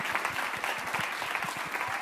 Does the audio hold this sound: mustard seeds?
no